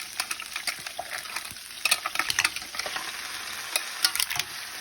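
Mussels stir-fried with seafood quinoa fried rice in a hot pan, a bright continuous sizzle broken by repeated scraping stirs and clinks, close and fairly loud.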